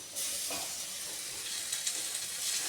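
Steady sizzling hiss of tomato frying in a hot pan for bread upma, constant and close with no talk over it.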